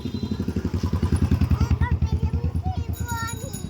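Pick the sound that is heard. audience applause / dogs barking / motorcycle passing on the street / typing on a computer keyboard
motorcycle passing on the street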